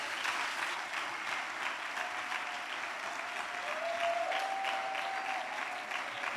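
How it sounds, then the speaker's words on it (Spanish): A church congress audience applauds in a sustained, even wash of clapping that holds at steady volume from start to finish, with a faint tone drifting underneath. "Denle un aplauso, Señor."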